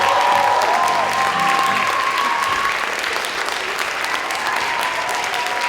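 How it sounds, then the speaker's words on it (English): Sustained applause from a school audience at a K-5 spring jazz performance, steady and dense throughout with some voices mixed in, filling the hall at an even level. "Please join me in an enormous round of applause for Faith Glassman."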